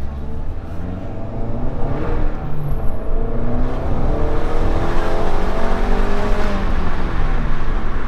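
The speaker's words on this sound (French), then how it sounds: "Le bruit du moteur est très présent." Under hard acceleration a car's engine drones loud and constant, a whirring mechanical roar that rises gradually across several seconds with no speech over it.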